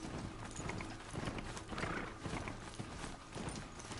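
Horse hooves clip-clop steadily in the video game Horizon Zero Dawn, a dense, continuous trotting patter mixed with ambient game sound, fairly faint throughout.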